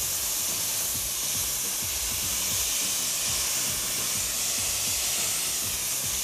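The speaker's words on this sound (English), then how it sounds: "now, what I do is with this spray gun, now I apply on the print or squeegee side." A steady, loud spray gun hiss runs without pause, broad and airy, with a faint low rhythmic thudding beneath it, spraying the squeegee side of a screen-printing screen.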